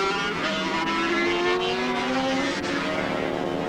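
A Rotax 250 racing motorcycle screams past at Cemetery Circuit during a 1983 race, its high two-stroke engine note loud and continuous with rising and falling pitch, no talk over it.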